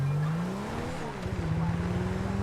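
A car in GTA V accelerates hard with a rising engine whine and a drawn-out tire squeal, engine pitch sweeping up and down, while someone talks over it.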